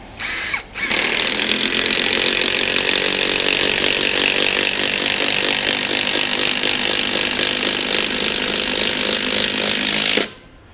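Power tool driving a screw into a hard steel construction beam, one loud continuous high-pitched whine that starts after a short blip and runs for about nine seconds before stopping abruptly.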